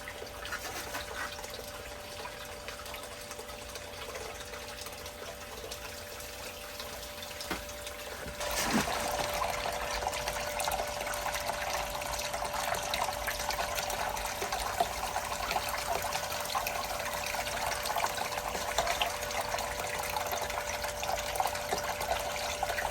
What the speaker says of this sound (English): Looks like I need a little more water flow